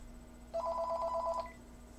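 One short burst of telephone ringing, an electronic warbling tone lasting about a second against a quiet room hum, with no voices.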